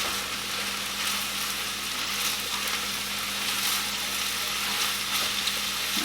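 Green vegetables frying in a pan while being mixed, a loud, continuous sizzle with soft stirring underneath, steady throughout without talking.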